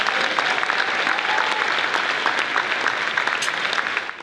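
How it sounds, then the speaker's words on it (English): A big round of applause from a crowd at a Delray Beach community event, dense and sustained for several seconds before tapering off, with faint voices underneath. "Let's give them a big round of applause."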